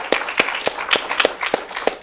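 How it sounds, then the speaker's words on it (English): Scattered hand claps from a small audience welcoming Bob at a community recreation meeting, about eight distinct claps over two seconds, fairly close and loose in rhythm with no one speaking. "Let's everybody give Bob a round of applause"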